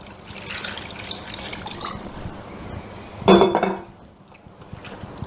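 Bitter gourd being rinsed in water in a bowl: soft, close sloshing and light clinks against the dish, then a brief louder splash and clatter before the sound fades to near quiet.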